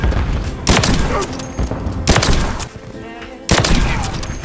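Sniper rifle shots in an online shooter game ring out as three loud, sharp blasts spaced a second or so apart, each trailing a short echoing tail over constant game background noise.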